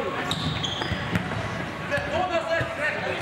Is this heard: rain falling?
no